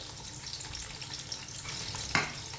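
Finely chopped onions, three of them, frying in oil over a stove, a soft steady sizzle with one sharp clink near the end and no one talking.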